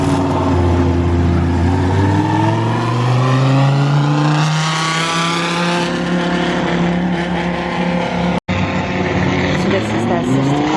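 GT race car at the Mugello circuit, an engine loud and close, climbing steadily through the revs with rising harmonic tones, then a sudden cut and a brief gap before a quieter, thinner continuation, with talk mixed in.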